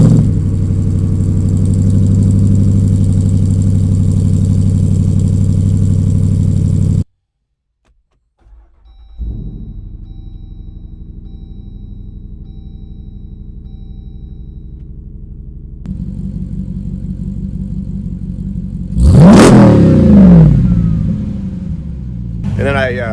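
A 2020 Jeep Wrangler 392 SRT with a 3.5-inch Magnaflow exhaust rumbles loudly at close range, goes silent, cranks and fires into a cold-start idle, then flares sharply in a brief rev before settling.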